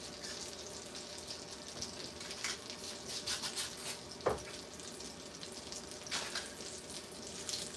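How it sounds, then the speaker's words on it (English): Butter sizzling in a pan while stuffed salmon cooks, a steady, fairly quiet crackle and hiss with scattered small pops, one sharper clink of a utensil, and no one talking. "I'm going to put a little more butter in here."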